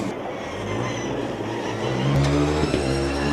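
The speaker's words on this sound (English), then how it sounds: "The Karlsruhe car every once in a while sounds like the gearbox is shifting down just a little bit too earlier than the driver is expecting anyway." The Karlsruhe Formula Student combustion race car passes during an endurance event, its engine note climbing and shifting with a downshift blip, loud and close on the track.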